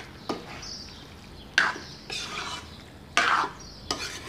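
Onions being stirred in a pan after salt is added, in a few distinct scraping strokes of a spoon against the pan, each a short burst over a faint background sizzle.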